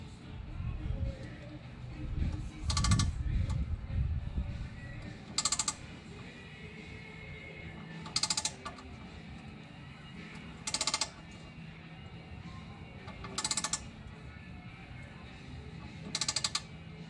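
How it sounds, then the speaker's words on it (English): A hole being tapped for an air line fitting, with sharp, brief bursts of metallic ratcheting at regular intervals over faint background noise and an early low rumble. "tapping the hole for the airline fitting."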